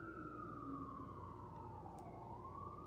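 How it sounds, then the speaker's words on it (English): An ambulance siren wails in a slow, falling then rising sweep as it passes at a distance, faint and steady over background hum. "No, that's an ambulance."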